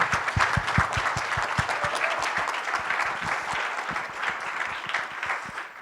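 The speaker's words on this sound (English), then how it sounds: "please help me give a round of applause for these people and all of the work they did" A conference audience at SCaLE 22x gives a sustained round of applause in a meeting room: dense, even clapping from many hands that holds steady for several seconds, with no voices.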